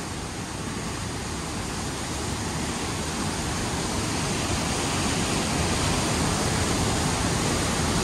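Rhine Falls, a large waterfall, roars nearby as a steady, dense broadband rush of falling water, unbroken and loud throughout with no voices.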